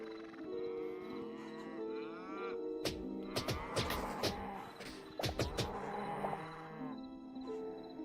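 A cow moos in the Hytale video game: drawn-out tonal lowing with a few sharp clatters and thumps in the middle, all fairly close with steady game ambience underneath.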